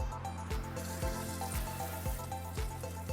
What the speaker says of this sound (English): we're throwing the cold water on